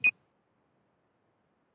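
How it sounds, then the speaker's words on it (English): A single short electronic timer beep marks the end of a member's speaking time at a congressional financial oversight hearing, followed by silence. "I heard the beep"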